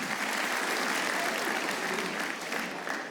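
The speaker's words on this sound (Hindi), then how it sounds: "एक हमारी टीम के लिए तालियां होनी चाहिए दोस्तों" An audience claps for a cricket team, steady sustained applause that stays fairly even and moderately loud throughout, with some crowd murmur blended in.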